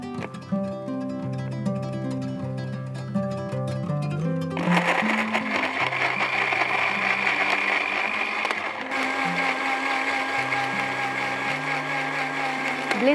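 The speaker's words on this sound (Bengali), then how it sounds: "ব্লেন্ডের ব্যবহারের ক্ষেত্রে একটি জিনিস মাথায় রাখা খুবই জরুরি, তা হচ্ছে দীর্ঘক্ষণ এক নাগাড়ে ব্লেন্ড না করে একটু গ্যাপ দিয়ে করাটা খুবই দরকার।" An electric blender whirring as it blends milk into a paste, starting with a lower churning tone and then jumping to a loud, steady high-pitched whine that runs continuously, close by.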